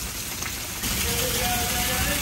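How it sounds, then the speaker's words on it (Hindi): Heavy rain falls outdoors, a dense close hiss of drops on surfaces that swells louder partway through and then holds steady with no voices heard. "बहुत तेज बारिश है"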